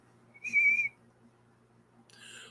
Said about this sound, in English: It's a wee bit whistly, but I don't care.